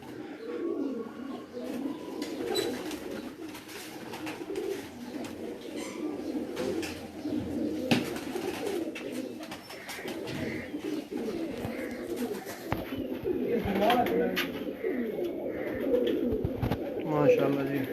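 Domestic pigeons of a home-bred line coo on a rooftop in Moch, Mianwali, a continuous low rolling murmur of overlapping coos from several birds, with voices faintly mixed in.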